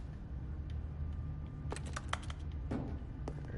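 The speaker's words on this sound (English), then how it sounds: "Everything still got a keyboard sound." Keyboard typing inside the video game The Stanley Parable, scattered quiet clicks and short bursts of keystrokes over a low background hum, faint and irregular with no talk.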